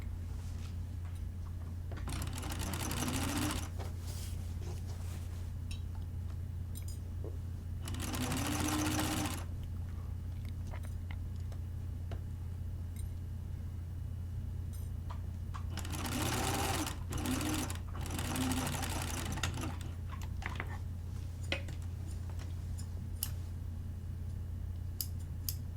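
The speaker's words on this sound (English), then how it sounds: "I'm going to start sewing at one shoulder and working toward the front." A sewing machine stitching a quarter-inch collar seam on a blouse, running in three or four distinct bursts of a few seconds each, separated by quiet pauses with faint handling noises, close and alone.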